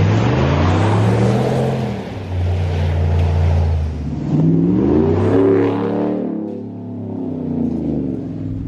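A 2019 Ram Rebel pickup's engine, fitted with an aftermarket exhaust, rumbles loudly at close range and climbs through several throttle blips before settling back to a deep idle, with no talking.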